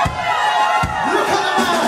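A loud live audience at Hootananny Brixton cheers and whoops for a singer being introduced, close and energetic, with bursts of shouting and scattered claps rising over a bright, dense crowd roar.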